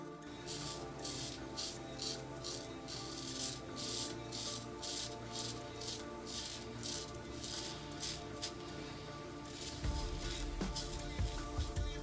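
Rex Envoy safety razor shaving neck stubble, giving a faint, close, rhythmic rasping scrape repeated in short strokes, with a brief rinse-like rumble near the end.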